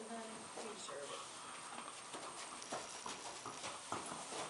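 Horse hooves clip-clopping at a farm stable where a foal has just been born, faint uneven steps shuffling close by while people talk quietly.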